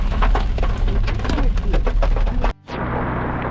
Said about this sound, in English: it started to rain really hard back there